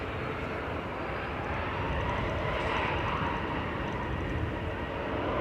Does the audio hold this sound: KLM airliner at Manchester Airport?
yes